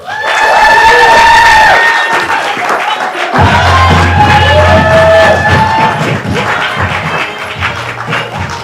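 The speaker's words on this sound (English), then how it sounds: "can we give a big round of applause for Alice Barber" A crowd at a pub arts night claps and cheers for a performer, loud and sustained, with whoops and shouts that gradually ease off near the end.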